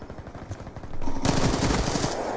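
Light machine gun fire in Black Ops 2, a rapid rattling stream of shots, lighter at first and then swelling into loud sustained automatic fire close by.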